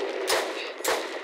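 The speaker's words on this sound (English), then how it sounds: "So here I go, still shooting." Gunfire during an epic boss battle in the video game Borderlands: two loud bursts of rapid shots about half a second apart over a constant background of game noise.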